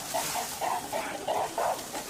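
A western lowland gorilla mother gives a series of short, hooting howls in an uneven rhythm, moderately loud over a steady background hiss.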